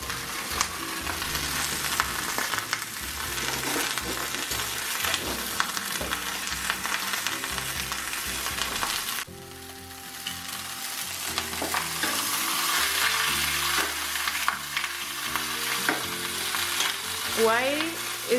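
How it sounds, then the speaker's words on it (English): Lamb shoulder blade meat searing in a hot pan gives a loud, steady sizzle and crackle for a long stretch, dipping briefly midway, with faint tonal background sounds and no talking. "Why is it important to sear the meat first?"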